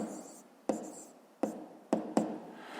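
A pen scratches out a math solution on paper in a few short, close strokes separated by brief pauses, quiet and with no talking.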